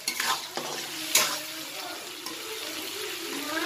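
Ginger and garlic fry in oil for an egg curry, a bright close sizzle with a few sharp stirring scrapes near the start, then a steady hiss.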